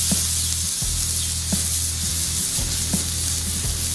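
Pork chops sizzle steadily on a 36 inch Blackstone griddle after flipping, a constant close hiss of frying with a low steady hum beneath and a few faint clicks and scrapes.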